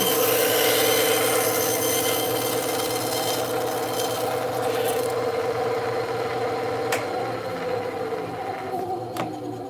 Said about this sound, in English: we're going to cut off some trim or excess